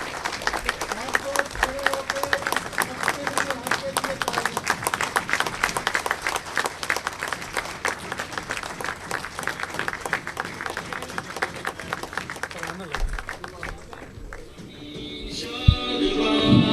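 A crowd at a Jamaat-e-Islami event in Faisalabad breaks into sustained, dense applause to welcome a guest, steady and fairly loud for most of the stretch before thinning near the end, with voices mixed in.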